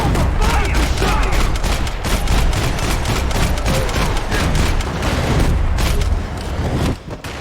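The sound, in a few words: gunfire in video game Max Payne 3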